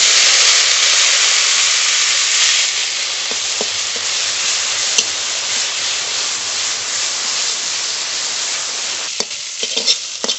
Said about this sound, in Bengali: মশলা দিয়ে কচুর লতি ভাজা হয়ে গেছে